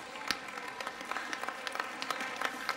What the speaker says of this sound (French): Ils ont mis des bruitages d'applaudissements d'une grande salle de spectacle, mais un peu étouffée.